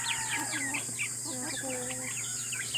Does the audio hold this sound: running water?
no